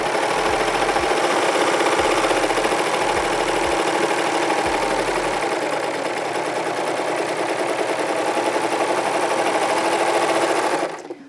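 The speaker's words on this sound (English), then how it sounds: "we're gonna run this off, and you want a serger tail at the beginning and the end" A serger set up for a three-thread wide stitch at a short stitch length runs steadily while stitching a scrunchie, a fast continuous mechanical whir lasting about eleven seconds before stopping abruptly, with no talking.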